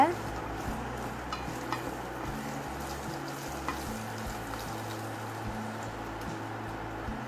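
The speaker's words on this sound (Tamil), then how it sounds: "அப்புறம் நம்ம வந்து மாங்காய் ஆட் பண்ணிக்கலாம் இது நல்லா மிக்ஸ் பண்ணிக்கலாம்" Raw mango pieces stirred and mixed in a pan for a sweet mango pachadi: a steady, low sizzle runs throughout, with occasional faint scrapes and taps from the utensil.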